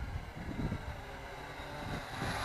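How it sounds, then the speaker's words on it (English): Wind blows outdoors during a drone flight, a continuous rough low buffeting rumble against the microphone, moderately loud with no talking. "considering the wind's blowing and stuff"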